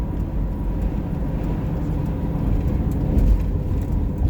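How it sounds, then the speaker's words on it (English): A big truck rolls past with a steady low engine rumble and road noise, swelling slightly as it gets closer, heard with no talk over it. "bro, get this big ass fucking truck."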